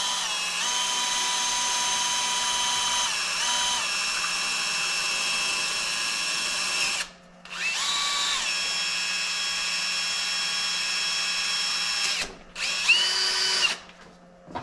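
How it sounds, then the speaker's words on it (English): A power drill bores a hole through carbon fiber, whining loud and steady at high pitch for about seven seconds, then stopping and restarting for two shorter bursts that dip in pitch as the bit bites. "I'm just drilling a hole through the carbon fiber now"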